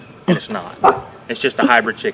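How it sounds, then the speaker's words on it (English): A small pet dog named Mako barks a few short, sharp times in the background, faint and partly buried under someone talking over it in a garden. "you can hear our little pup back in the background"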